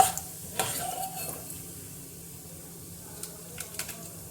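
Urad dal and chana dal fry in hot oil in a pan with a soft, steady sizzle, broken by a few sharp scrapes and clinks of a spoon stirring, fairly quiet and close.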